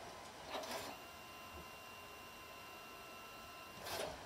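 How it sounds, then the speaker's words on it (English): A DNP photo printer runs quietly, a low steady mechanical hum with two brief louder whirring bursts at the start and end of the stretch, no voices present. "10 seconds and it started printing."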